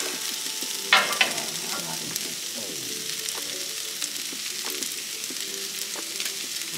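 Egg frying on a hibachi griddle for fried rice, a loud steady sizzle that flares sharply as the egg hits the hot surface, then keeps crackling with light spatula clicks.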